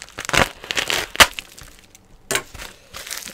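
A knife slices open a cardboard shipping package, giving rough scraping bursts, crinkling and a sharp crack, close up with short pauses between strokes.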